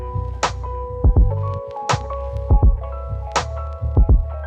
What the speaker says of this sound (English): you want to whack them a couple of times to flatten them out. This is called pan banging.